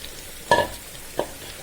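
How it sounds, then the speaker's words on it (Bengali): Long beans drop into hot oil over fried onion, garlic and green chillies, giving two short, sharp bursts of sizzle and clatter about a second apart over a faint background hiss. "এবার আমি বরবটি শিমগুলো দিয়ে দিব। এই যে বরবটি শিমগুলো দিয়ে দিচ্ছি।"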